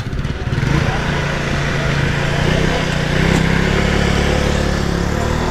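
A motorcycle engine runs steadily at a construction project site, a continuous mid-pitched drone that stays loud and close throughout with a faint voice underneath.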